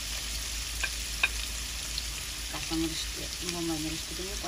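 Shrimp and garlic frying in a pan, with a steady soft sizzle and a few clinks of stirring, while voices talk over it in the second half.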